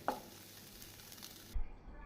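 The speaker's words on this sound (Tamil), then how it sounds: "நம் கான் நன்றாக வாசம் வரும் வரை வதக்கி" Sweet corn sizzles and crackles steadily in a hot pan for a moment, then the sizzle cuts off with a low clunk.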